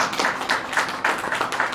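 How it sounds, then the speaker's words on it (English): Church congregation clapping during a sermon, a sparse, uneven patter of hands at moderate distance with rhythmic bursts and no talk. "I think you can join brother to clap"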